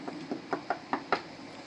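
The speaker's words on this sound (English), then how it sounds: "I hear knock at my door." A soft, fairly distant knocking on a door, six evenly spaced raps in quick succession with nothing else around them.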